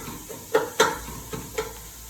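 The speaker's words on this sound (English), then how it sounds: "we're going to put the onions in and you can hear them a little bit of a sizzle" Onions sizzle gently in not-very-hot oil in a pot, a soft steady crackle broken by a few clattering stirs of a spoon against the pot.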